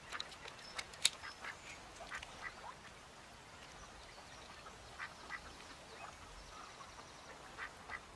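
A duck in a film scene gives a few scattered quacks, fairly faint and distant over quiet outdoor ambience, with most calls early on and the rest sparse.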